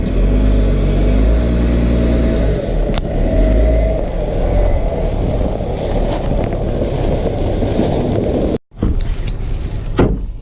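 A lifted Jeep JK on 2.5-inch lift and 33-inch tires crawling over rocks, its engine a loud steady low rumble mixed with creaks and clunks, with a brief sharp dropout near the end and no talk.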